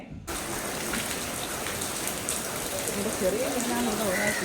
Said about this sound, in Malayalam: ഭയങ്കര മഴയാണല്ലോ